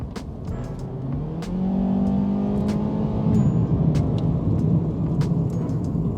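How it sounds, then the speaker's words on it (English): A 2023 Mazda CX-3's naturally aspirated 2.0-litre Skyactiv four-cylinder engine, 156 horsepower, revs up loudly and steadily, its rising tone holding and climbing again as the vehicle accelerates close by, with faint clicks over the roar. "naturally aspirated Skyactiv engine with 156 horsepower and 206 Nm of torque. But more importantly, it makes a pretty good noise"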